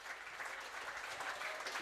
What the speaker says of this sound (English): The round of applause is for Jack Bussey.